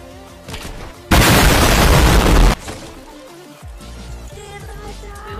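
Gunfire in a PvP video game: a loud, sustained burst of shots lasting over a second, then quieter game sounds with a few fainter reports.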